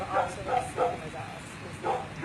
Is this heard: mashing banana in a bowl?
no